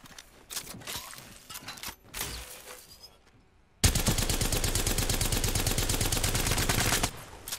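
Gunfire in Apex Legends: a few scattered shots and footsteps come first, then a sustained, loud burst of rapid automatic fire runs for about three seconds before stopping abruptly, with no talk.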